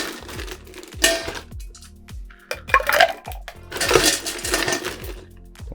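Ice cubes tumbling into a metal cocktail shaker for limoncello and rhubarb sours, a run of hard clinks and rattles in several bursts, loud and close with no talk.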